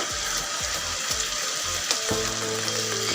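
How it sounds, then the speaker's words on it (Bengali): Tamarind pulp stirred into hot oil for a Bombay chili pickle, producing a steady bubbling sizzle with spoon scrapes against the pan, close and continuous throughout. "তেঁতুলের কাঁধ দেওয়ার পর তেলের সঙ্গে ভালো করে মিশিয়ে নিব"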